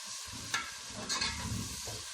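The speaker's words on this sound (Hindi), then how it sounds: "इसको भी हल्का फ्राई करके" Ingredients lightly frying in a pan for Multani chicken shorba, giving a steady soft sizzle with a couple of brief stirring scrapes, close and moderately quiet, no voices.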